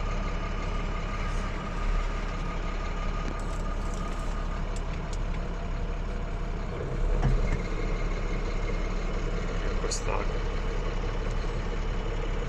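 Truck engine idling steadily with a low rumble and no pauses throughout, apparently a heavy vehicle fitted with air brakes, building air pressure while parked before a moving job.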